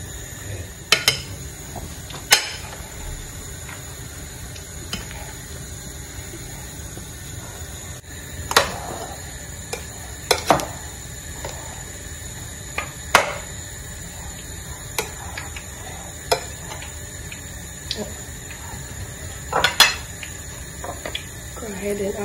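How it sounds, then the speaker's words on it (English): Cooked yam being mashed for yam balls, with intermittent clinks and knocks of a utensil against a bowl at an irregular pace, moderately close over a quiet kitchen background. "so go ahead and mash our yam"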